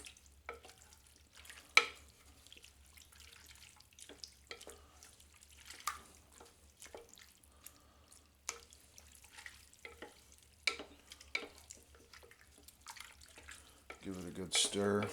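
A spoon stirs chili with chipotle peppers and adobo sauce in a pot, giving soft intermittent scrapes and wet clinks under a faint simmering sizzle, quiet and close, ending in a louder stir.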